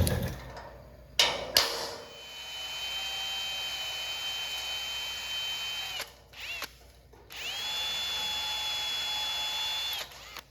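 Power drill boring out a bolt on a rusty Model A Ford hot rod body, a sustained high whine running for several seconds, briefly stopping and restarting, with short clunks between runs, close and alone.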